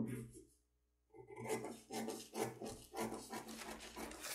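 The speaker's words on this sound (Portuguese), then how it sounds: "agora eu já posso recortar." A paper sewing pattern is cut out close by. After a brief quiet pause come rapid, rhythmic rasping strokes of the blades through the paper, with no voices.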